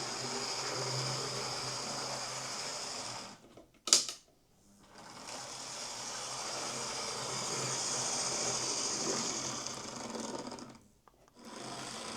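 A small electric motor in a Lima model train locomotive whirs steadily with a high mechanical buzz, cutting out briefly twice before starting up again.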